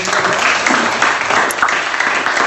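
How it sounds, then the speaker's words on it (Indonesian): Students in a classroom give a round of applause after group presentations. The clapping is a dense, steady wash of many hands that continues unbroken throughout, fairly loud and close. "Jadi tepuk tangan dulu untuk kita semua"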